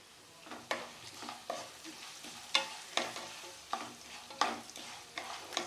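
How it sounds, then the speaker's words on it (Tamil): Chana dal sautéing in hot oil in a pan for poha upma, with a soft steady sizzle and repeated scraping stirs of a spoon at an uneven rhythm, close and fairly quiet. "கடலைப்பருப்பு 2 நிமிஷம் வதங்கினா போதுங்க"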